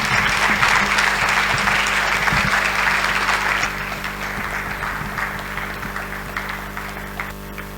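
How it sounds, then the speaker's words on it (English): Applause from the audience for a speaker at the Africa Media Festival, a full crowd of clapping hands that is strong at first and then eases to a lighter, thinning patter over a steady background hum. "please put your hands together and give a warm round of applause to Abdul Noor Mohammed"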